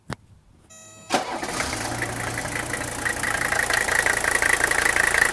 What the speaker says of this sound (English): Let me demonstrate as I go ahead and start this engine up.